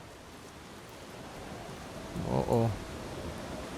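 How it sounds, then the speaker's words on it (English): Steady, soft rain hisses over the landscape in the video game Eastshade, a faint continuous wash, with a person briefly exclaiming partway through. "here comes the rain"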